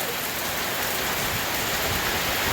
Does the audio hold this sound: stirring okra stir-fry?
no